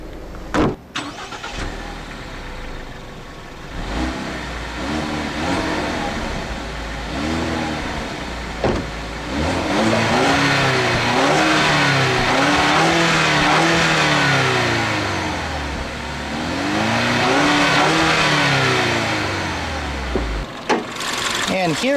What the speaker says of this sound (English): here is Ford's 2-liter turbocharged direct injection Ecoboost 4-cylinder engine